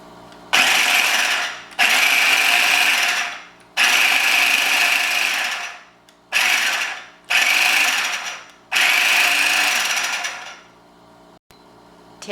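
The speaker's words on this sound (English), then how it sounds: "you're going to run this all in your little food processor and make a paste" A small food processor blends onion and herbs into a paste for a turkey rub, whirring loudly in six bursts of varying length separated by short pauses, then falls quiet.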